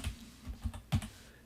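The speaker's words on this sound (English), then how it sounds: "Now again, I type it in, I can copy and paste it either way." Several keys tap on a computer keyboard while entering a formula in Excel, a few close, crisp clicks spaced irregularly, the last one a bit louder, with no speech.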